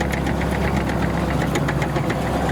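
A loud, heavy tank engine idles with a steady rhythmic knocking and rumbling vibration throughout, at a car show.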